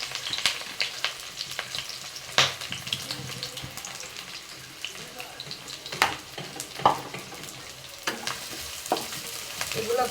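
Chopped onion, garlic and bay leaf frying in oil in a wok, a steady close sizzle with intermittent scraping stir strokes throughout.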